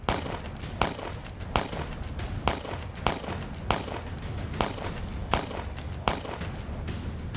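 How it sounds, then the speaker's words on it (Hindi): Intermittent gunfire rings out during an army counter-terror operation in Kulgam, Kashmir, roughly ten sharp distant cracks spaced about half a second to a second apart over a steady rumbling background. "सामने साक्षात यमराज को देख रहे आतंकी रह रहकर फायरिंग कर रहे हैं"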